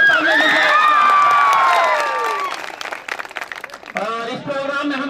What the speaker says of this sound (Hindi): हमारे डायरेक्टर शानवाज सर के लिए जोरदार तालियां दीजिए।